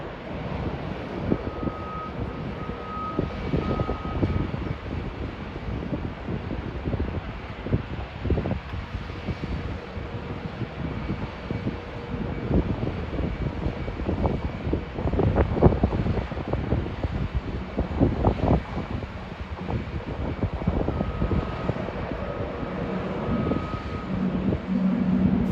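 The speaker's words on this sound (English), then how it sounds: "Flight 117 arriving from London Heathrow Airport." Airliner on Flight 117 from London Heathrow arriving at JFK, a broad, steady jet roar with wind buffeting the microphone, sustained throughout at moderate distance with no talk.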